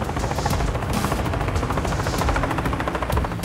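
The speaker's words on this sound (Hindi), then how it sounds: "पेंगोंग झील के पास तक पहुंचे चाइनीज अटैकिंग हेलीकॉप्टर्स का वीडियो जारी हुआ।" Chinese attack helicopters near Pangong Lake, a loud continuous rotor roar with dense chopping texture and sharp bursts layered on top, steady throughout with no speech.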